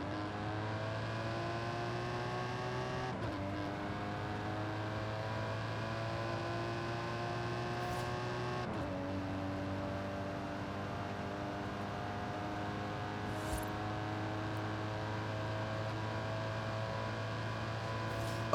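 An Aston Martin in Forza Horizon 5 accelerates hard from a standstill down a runway. Its engine note climbs steadily, drops briefly at two gear shifts and then keeps rising, loud and sustained with no talk.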